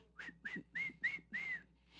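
A person whistles five short rising notes in a quick rhythm, close and clear, followed by a brief pause.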